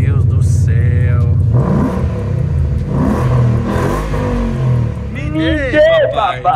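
A 2012 Ford Mustang GT V8 cranks and fires up, then revs with a deep throaty roar that rises and falls, while people talk loudly nearby over the engine.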